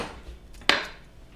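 A single sharp, close smack as a garlic clove is smashed on a cutting board, a brief crunching thud standing alone after a moment of quiet.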